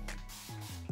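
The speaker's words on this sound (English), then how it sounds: "It's important that you spray your hair and keep it, you know, wet throughout this process," Quick bursts of fine mist from a spray bottle wetting long locs during pipe cleaner curl styling, a steady hiss filling the moment with a couple of short repeated pumps near the end and no speech.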